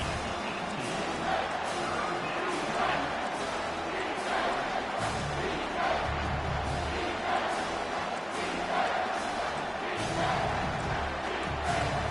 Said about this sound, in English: The noise level is relentless here on 2nd down.